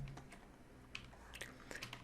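Computer keyboard keys are pressed in a few quick, light taps, including a Ctrl Z undo shortcut during Photoshop editing, heard faintly against a steady background hiss.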